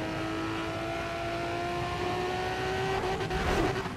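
A Nissan Skyline race car in Need for Speed ProStreet, tuned to 1500 hp, holds a high, steady engine whine that climbs gradually in pitch as it accelerates. A brief burst of noise comes near the end.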